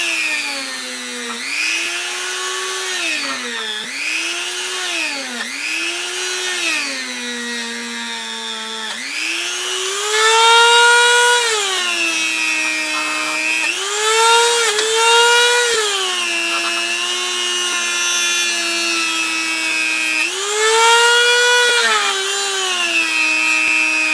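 A high-speed rotary tool bit grinds on metal AK-47 trigger parts, a loud, close whine that repeatedly rises and dips in pitch as pressure changes, running steadily for over twenty seconds without talk.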